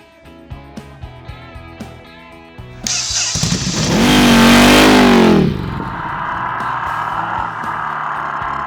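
A Ducati Scrambler motorcycle engine rises into a loud, close rev that swells for a few seconds, then settles into a steadier running drone, following a lighter ticking passage.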